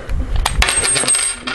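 A plastic power coin dropped into a Zyuranger Dino Buckler toy gives a quick run of close, bright metallic clinks and rattles over about a second and a half, with no voices.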